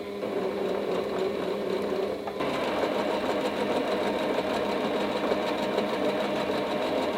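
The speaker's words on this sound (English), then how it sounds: "we're just going to quilt down both of the sides at the 1/4 inch seam" A sewing machine stitches down both sides of a small spring quilt at a quarter-inch seam, a steady close rapid whirring hum that picks up speed partway through and then runs on alone without talk.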